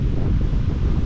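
Strong wind buffeting the microphone at a lakeside carp fishing spot in October, a loud, dense low roar of continuous gusting that fills the brief moment with no voices.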